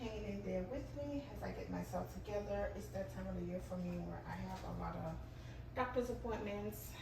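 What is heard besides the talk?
No everyday noise stands out behind the speech.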